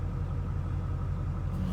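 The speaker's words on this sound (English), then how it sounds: "Chevy Silverado, the LBZ Duramax." A deep, steady diesel engine idles close by: a 2007 Chevy Silverado with an LBZ Duramax, tuned with a DSP5 switch. A low continuous rumble with a faint rattling texture and no voices.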